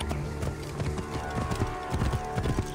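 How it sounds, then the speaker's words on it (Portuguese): Rhythmic clip-clop of horse hooves at a steady trot in Assassin's Creed Origins, close and continuous, over a dense background of game sound. "andar de cavalo nesse jogo é diferente"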